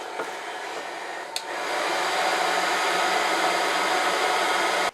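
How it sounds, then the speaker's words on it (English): Glue gun heating and softening glue on wood, a steady loud hot-air blowing hiss after a brief click, continuing evenly throughout. "So I'm going to soften it up a little bit with the glue gun first."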